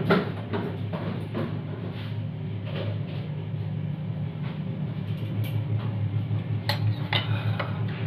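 A spoon stirs a paste of tea leaves and sugar in a kitchen, making continuous scraping and clinking against the container, steady and close under a constant low hum.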